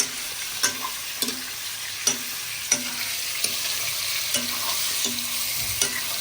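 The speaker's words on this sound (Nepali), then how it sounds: "अब तेल तातिसकेको छ। अब मासु फ्राई गर्छौँ है त।" Chicken pieces fry in hot oil with a steady sizzling hiss, punctuated roughly every second by the clink and scrape of a spatula stirring the pan.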